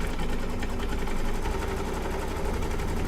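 An embroidery machine stitches a Thanksgiving table runner, giving a steady, fast mechanical whir and rapid needle clatter that runs unbroken and fairly close throughout.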